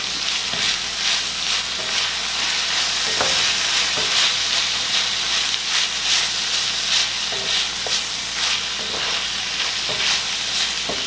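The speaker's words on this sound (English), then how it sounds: "We're going to let this cook for about 30 seconds." Italian sausage with garlic and seasoning sizzles in a pan, a loud steady fry crackle close by, broken by occasional stirring scrapes and clicks, with no talk.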